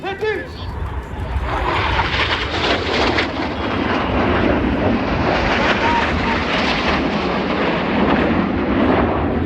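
Red Arrows jets roar past at the RAF Cosford air show in 2025, a loud sustained rushing jet noise that swells and holds, with a commentator's voice over the public address.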